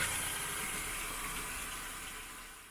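A camper's fresh water pump running with water flowing, a steady broadband rushing hiss with a faint low hum underneath, holding even for the whole stretch and easing off slightly at the end.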